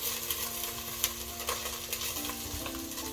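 A vegan tonkotsu ramen base of ginger stirred into a sizzling pan, a steady frying hiss with soft scraping stir sounds, close and alone.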